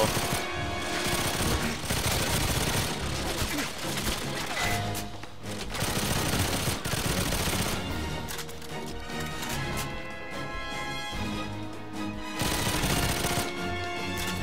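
Dense, continuous gunfire and combat effects from the video game GoldenEye 007 Reloaded on PS3, loud and sustained with clattering impacts layered over a busy game soundtrack.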